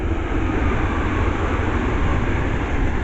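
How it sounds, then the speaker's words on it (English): A British Rail Class 377 electric multiple unit passing through North Wembley station, running as a single unit: a steady, loud broadband rumble and rail roar holding evenly throughout, close by, with no voices. "The next train passed by, it's a Sun 377."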